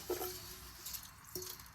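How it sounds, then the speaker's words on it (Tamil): Excess water drains from three kinds of soaked grains through a sieve: faint wet squishes and drips, with a sharper splash near the start and another near the end. "இப்போ பார்த்தீங்களா எவ்வளோ எக்ஸஸ் தண்ணி வருதுன்னு"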